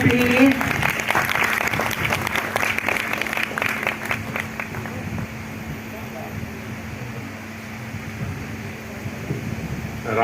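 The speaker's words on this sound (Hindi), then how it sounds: "सभी लोग जोर से तालियां बजाएं। Give a big hand please." Audience applause at a birth anniversary gathering, a dense wash of clapping that is strongest at first and fades away over a steady hum of fans or air conditioning.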